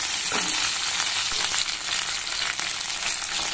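Chillies frying in a pan for Rayalaseema-style sambar give a continuous bright sizzle, close and even, with a few faint stirring knocks and no talking.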